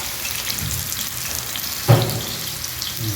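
Fish fries in a pan of hot oil for a poricha meen kulambu. A close, continuous crackling sizzle with a bubbling spatter runs throughout, and one brief louder pop lands near the middle.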